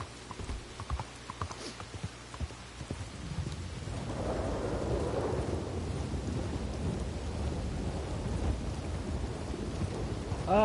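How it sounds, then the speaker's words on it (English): A thunderstorm in Red Dead Redemption 2 plays out: rain hisses steadily while hooves clip-clop in the first few seconds, then a deep rolling rumble of thunder swells and lingers under the downpour. "That's a lightning strike there."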